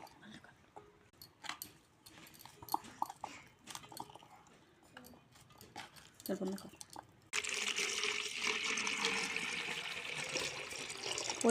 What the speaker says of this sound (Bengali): পরিমাণ মতো জল নিয়ে নিচ্ছি